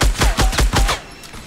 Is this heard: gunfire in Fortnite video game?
yes